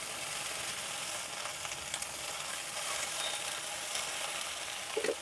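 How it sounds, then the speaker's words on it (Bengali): Okra fries in a pan with a little turmeric, giving a steady, moderately loud sizzle with occasional small clatters of stirring. "একটু হলুদ দিয়ে ভেজে নেব"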